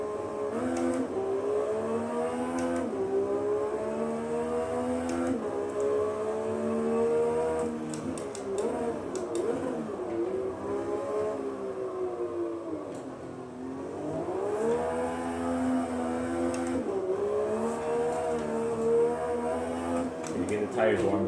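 Porsche 991 GT3 race car lapping the VIR circuit, its engine note rising and falling steadily through gear changes and corners, loud and close throughout, with a voice talking over it.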